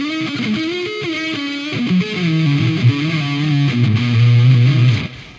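Electric guitar tuned to 425 standard E and played through reverb and delay, a sustained distorted melodic line with bends and vibrato ringing on for several seconds before cutting off.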